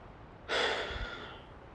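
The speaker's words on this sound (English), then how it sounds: "I take a deep breath." A single deep breath drawn in a freezing outdoor survival shelter at minus six degrees, a sudden close airy inhale that swells and slowly fades over about a second, against a quiet background.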